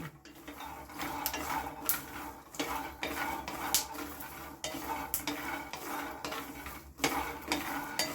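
Peanuts dry-roasting in a pan rattle and scrape under a spatula, with frequent sharp clinks of metal on the pan over a soft steady hiss, close and without voices.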